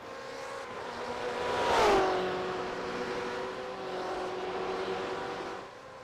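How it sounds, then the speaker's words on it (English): A race car in a road racing series accelerates off pit road to rejoin the field, its engine rising and sweeping past in a clear Doppler pass, then fading into a steady distant drone. "They're all coming off pit road, rejoining the field."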